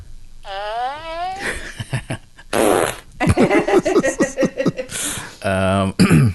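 Repeated loud fart noises, some drawn out and others in quick sputtering bursts, come with chuckling and snickering between them.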